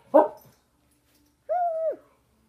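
A voice makes a short sharp sound, then after a pause gives a drawn-out whining dog imitation, alone in quiet surroundings.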